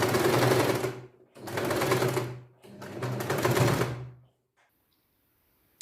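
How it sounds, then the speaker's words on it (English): A sewing machine stitches around a welt pocket in three rapid bursts of whirring, needle-driven chatter separated by brief pauses, then falls silent. "Go ahead and sew it all the way around like so."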